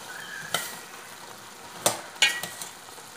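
Carrots and other vegetables stirred and mixed in a pan for veg kurma: a few distinct scraping clinks of a spoon at separate moments over a soft, steady sizzle, close by and with no talking.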